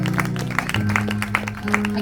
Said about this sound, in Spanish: mientras usted le da un aplauso al Señor